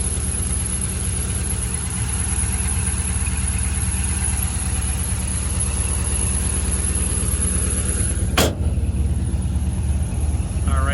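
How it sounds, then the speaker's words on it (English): A 1969 Chevrolet Camaro Pro Touring engine idles with a loud, steady, deep rumble close by, with one brief sharp click or transient near the end. "Listen to that motor."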